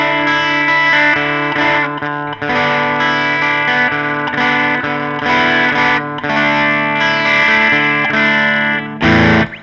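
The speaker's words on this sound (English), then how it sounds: "Like a very musical sort of overdrive." An electric guitar plays chords and notes through a smooth overdrive pedal, warm and sustained with little noise, ending in a brighter, harder strummed burst.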